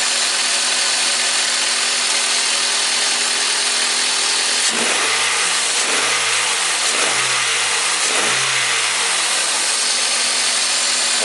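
Toyota Corolla engine, worked on for a mass air flow sensor cleaning, revs up in several repeated blips after a steady hum, each rise and fall close and loud, with no talking.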